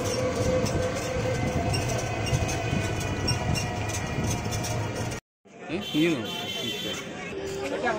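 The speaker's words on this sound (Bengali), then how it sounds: "তো প্রথমেই চলে আসলাম ট্রেন দেখতে" A train rumbles and clatters past nearby with wheel noise and metallic squeals, people talking over it, then a brief gap before rolling continues.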